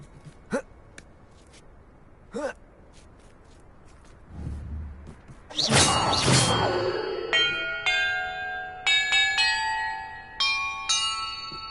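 Bells ring inside Hogwarts Legacy as part of a bell-order puzzle, a burst of loud clanging followed by a run of separate bright chimes struck one after another, after a few quiet breaths.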